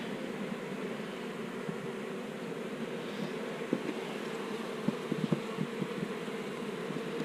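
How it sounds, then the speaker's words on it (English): Italian honey bees buzz steadily around a nuc hive, a continuous dense hum with scattered closer passes of individual bees and no talking. "I've always worked Italian bees."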